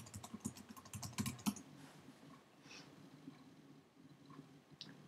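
Someone types a password on a Mac computer keyboard while installing a driver. A quick cluster of soft, close keystroke clicks comes first, followed by a few sparse, quieter taps.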